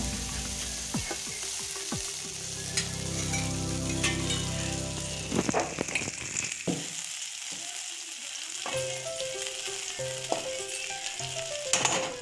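Butter cube melting in a hot, dry pan for paneer butter masala, sizzling and crackling steadily with bright spitting pops, loud and close, no talking.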